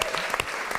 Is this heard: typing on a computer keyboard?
no